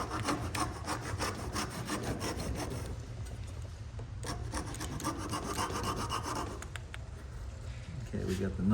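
Hand tool cutting string notches into a handmade wooden bow, a close, continuous scraping and rasping with irregular strokes, while a person talks over it.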